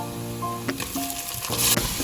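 Chopped onions and tomatoes frying in a pan for aloo pulao, a steady close sizzle with a few clinks and stirring scrapes, no voices.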